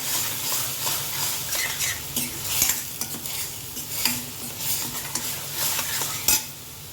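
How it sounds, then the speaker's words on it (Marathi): Onions frying in a pan for a pumpkin kofta curry, a continuous close sizzle with a spatula scraping and stirring in a loose rhythm and a few metallic knocks, with no voices. "कांदा सगळा चांगला भाजून घ्यायचा आपल्याला."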